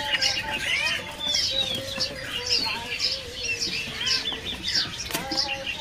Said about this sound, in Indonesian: Di kios ini juga ada burung pelanduk topi hitam ya.